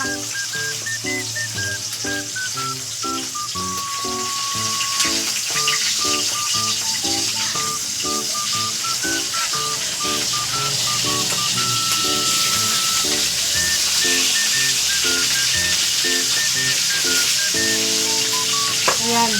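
Hot cooking oil crackles and sizzles steadily as food fries in a pan, a loud continuous hiss running throughout beneath a layer of background music.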